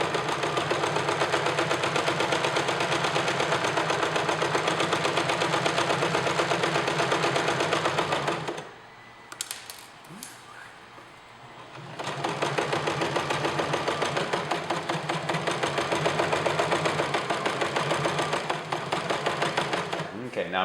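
A sewing machine stitches fabric in fast, even bursts of mechanical clatter, pausing briefly in the middle before resuming at the same steady pace, close and loud with no talk.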